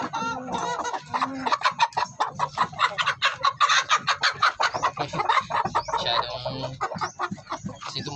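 Gamecock stag rooster and several chickens clucking in quick, dense bursts close by, with a brief crow-like call mixed in, continuous over a farmyard background.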